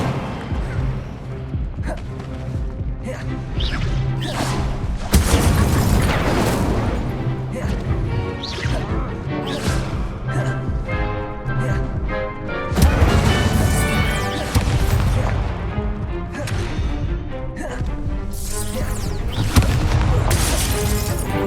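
Incendio and Levioso spell effects in Hogwarts Legacy burst in a dense run of loud crashes, booms and shattering impacts, with a voice shouting spell names over them.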